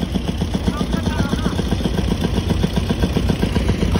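Motorcycle engine idling with a steady, loud, close chugging rumble while it is loaded onto a large river boat on the Sindh River in rural Pakistan; continuous throughout, with voices faintly under it.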